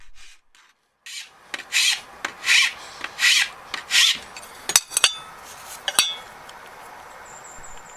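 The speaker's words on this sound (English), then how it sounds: "The ends of the bow were then filed down to 15mm round, so that the tubes would fit over the ends" Ends of a wooden English longbow being filed down round, a series of rhythmic rasping strokes close by, with a few sharp clinks near the end.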